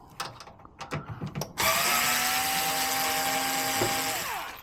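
After a few clicks and handling knocks, a power drill with a torque safety bit whirs loudly and steadily, close up, backing screws out of a scrap appliance shell, its pitch sliding down as it winds off.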